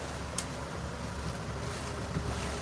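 A steady, droning boat engine rumbles continuously with wind buffeting and water noise, fairly loud and unbroken throughout.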